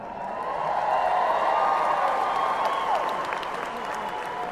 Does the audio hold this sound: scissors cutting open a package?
no